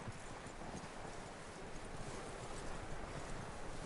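Horse hooves clip-clop in Red Dead Redemption 2, a quiet, steady walking rhythm over faint wind-like background noise.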